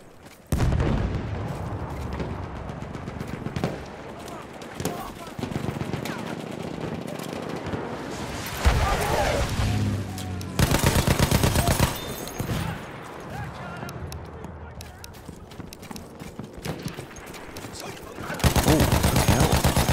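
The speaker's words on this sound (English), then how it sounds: "Machine gun right there!" Machine gun fire and explosions in the video game Battlefield 1, loud rapid bursts and booms layered over continuous battle noise, with people talking throughout.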